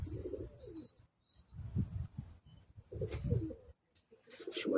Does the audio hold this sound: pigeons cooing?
yes